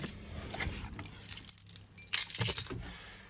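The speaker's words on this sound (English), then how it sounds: "So see, this is the key for it right here." A farm truck key on its ring jangles in short, bright metallic bursts close by, with quiet handling noise between the clinks.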